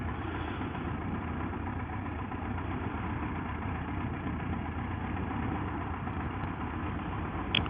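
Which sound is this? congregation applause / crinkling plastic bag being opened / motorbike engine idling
motorbike engine idling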